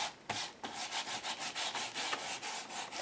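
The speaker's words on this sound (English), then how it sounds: "As I rub the transfer, you can see little bits coming off." Fingers rub over an image transfer on paper, producing close, dry scratchy strokes in a quick repeated back-and-forth rhythm with no voices.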